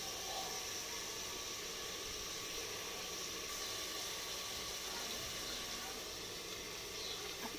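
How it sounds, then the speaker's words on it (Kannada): Chopped tomatoes fry in a pan for vegetable pulao, giving a steady, even sizzle and hiss that holds at the same level from start to finish, close up and unbroken. "ಇಲ್ಲಿ ನಾನು ಹೆಚ್ಚಿಟ್ಕೊಂಡಿರೋ ಟೊಮೊಟೊನ ಹಾಕ್ಕೊಂಡು ಚೆನ್ನಾಗಿ ಫ್ರೈ"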